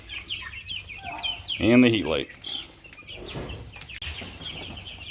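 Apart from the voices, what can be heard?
broiler chickens, Red Ranger chicks, clucking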